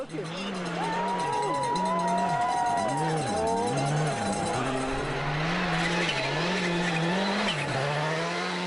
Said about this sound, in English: The first car on the road will be the Hyundai of Antoine Lestage with Natalie Richard.